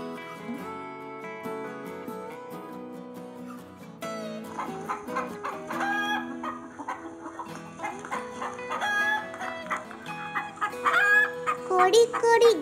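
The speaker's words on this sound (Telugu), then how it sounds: "కోడి కోడి గింజలు తింటావా?" Chickens cluck and call near by as grains are thrown to them, with repeated bird calls rising toward the end over a backdrop of tonal music.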